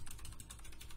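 Quick keystrokes on a computer keyboard during a Linux setup, a faint, rapid run of light clicks over about a second, no talk.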